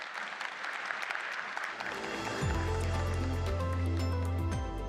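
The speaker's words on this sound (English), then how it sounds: "join me in giving our panelists a round of applause" Conference audience applause for panelists at a product event, dense clapping that is soon joined and partly covered by loud tonal stage music.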